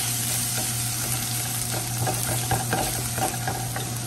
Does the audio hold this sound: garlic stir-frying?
yes